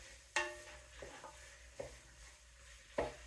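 A utensil scrapes and stirs shepherd's pie filling in a non-stick pan, giving a few separate soft scraping strokes with a quiet sizzle underneath.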